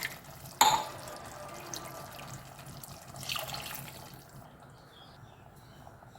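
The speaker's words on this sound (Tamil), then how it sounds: "இப்படியே கொஞ்சம் தண்ணி ஊற்றிக்கலாம்" Water is poured into a chicken gravy spice mixture in a kitchen: a brief splash at the start, then a faint trickle and quiet sloshing that fades out, with no talk.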